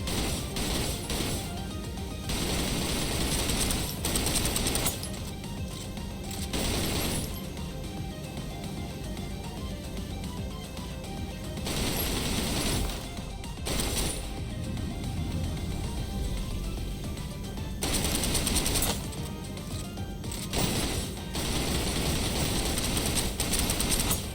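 Rapid gunfire from the video game Snowbreak rattles in long, dense bursts broken by short pauses, loud and harsh throughout, with no talking over it.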